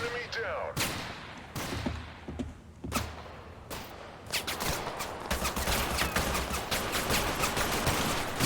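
Rapid bursts of gunfire crackle through combat in the video game Total Conflict: Resistance, with sharp separate shots at first that build into dense, continuous volleys. A voice may be talking underneath.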